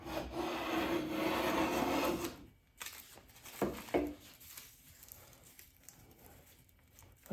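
A Stanley bench plane takes a wide shaving off cherry wood, a single rasping stroke about two and a half seconds long, followed by quieter scattered scrapes and taps.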